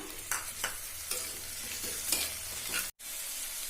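Tomatoes stirred into sautéed onions in a pan for a brinjal koottu, with a steady close sizzle and several distinct scraping strokes of the spoon, then a brief cut near the end, no voices.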